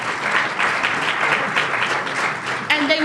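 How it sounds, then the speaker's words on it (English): An audience at a ceremony in Wellington claps for a group of children, a dense, loud patter of applause filling the room, with a voice briefly heard near the end. "give them a round of applause."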